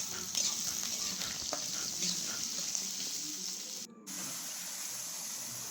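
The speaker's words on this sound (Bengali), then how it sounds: "এবার পেঁয়াজগুলো দিব, তো ফ্রাই করবো একটুকু লাল করে।" Sliced onions fry in hot oil in a pan, a steady close sizzling hiss with occasional faint stirring clicks and a brief dip partway through.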